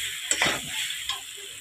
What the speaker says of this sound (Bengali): এরপর জল ঢেলে দেবো, কষা হয়ে গেছে প্রায়